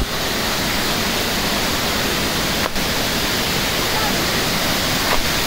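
Shooli waterfall in monsoon season roars as a loud, dense, unbroken rush of water that fills the whole clip, with a couple of brief faint knocks and no clear talk.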